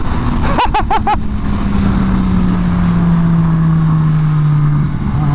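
A new race motorcycle on its first ride sends out a loud, close engine note that holds a sustained drone and slowly drops in pitch, with a few brief sharp bursts near the start.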